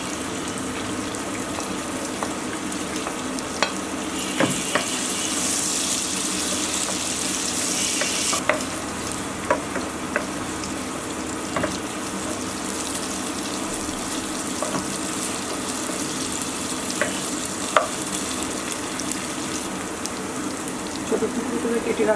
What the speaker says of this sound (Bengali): আরও দুই টেবিল চামচ তেল নিয়ে নিচ্ছি সাথে দিয়ে দিচ্ছি আধা কাপ পেঁয়াজ কুচি